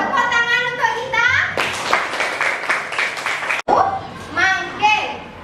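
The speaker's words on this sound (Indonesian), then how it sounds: "Tepuk tangan untuk kita." Children in a classroom clap together in a short burst of quick, rhythmic hand claps, set between stretches of a teacher's speech and kids' voices.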